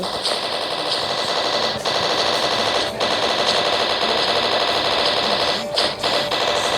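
Rapid, continuous video-game gunfire shoots at balloons, a loud, dense automatic rattle with only brief pauses between bursts.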